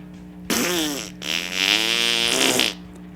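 A loud, drawn-out fart noise imitated by a voice, a long buzzing blast with a brief break, close and alone without talk.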